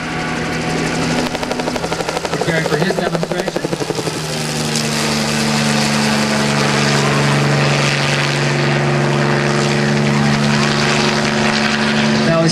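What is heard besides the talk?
Coast Guard HH-65 Dolphin helicopter coming up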